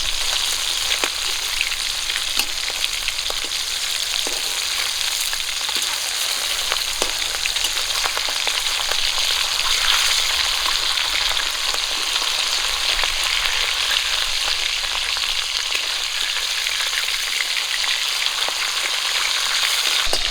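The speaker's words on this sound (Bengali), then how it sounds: "মাছগুলো এক পিস করে ভাজা হয়ে গেছে উল্টে দেবো" Pieces of large river fish fry in hot oil in a pan, giving a continuous, even sizzle with fine crackling spits throughout, close and uninterrupted, with no voices.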